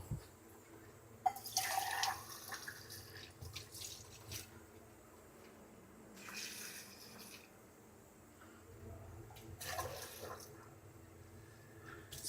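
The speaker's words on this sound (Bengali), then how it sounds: "আলুটা ডুবানোর জন্য আমরা একটু পানি অ্যাড করবো" Water is poured into a pot of Peshawari-style beef and potatoes, a few quiet bursts of splashing and trickling with short dripping between, fairly soft and close with no talk.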